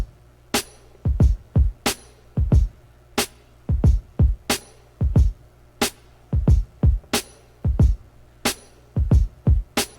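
A simple, steady drum pattern with punchy kicks and sharp snare-like hits repeating in an even groove, loud and close, no voices.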